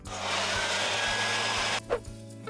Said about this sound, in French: Oh, je sais, un sèche-cheveux. Ça va sûrement faire l'affaire.